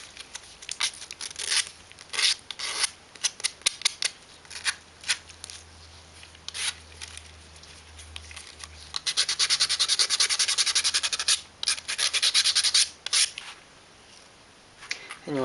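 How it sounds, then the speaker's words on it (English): Tabs are sanded off a triangular part from a Tortoise Tally gear box kit in short, scratchy rubbing strokes. Bursts start and stop, then a longer stretch of steady back-and-forth sanding runs before the final strokes. "find this triangular piece, sand off any tabs"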